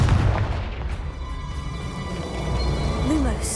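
A Confringo fire spell bursts in Hogwarts Legacy, giving a heavy booming blast with a deep rolling rumble that lingers for a few seconds.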